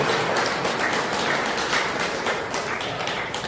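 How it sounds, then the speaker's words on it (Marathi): A seated audience at a Surya Namaskar yoga class bursts into strong, sustained applause, dense rapid clapping filling the room from start to finish without a break. "तर त्यांच्यासाठी आणि श्रेयाताईंसाठी सुद्धा एका जोरदार टाळ्या होतील."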